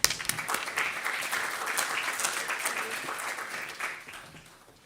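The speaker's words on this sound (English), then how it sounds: "Round of applause for them." An audience at an entrepreneurship competition final breaks into applause, many hands clapping densely at moderate volume. The clapping swells quickly, holds for a few seconds, then fades toward the end.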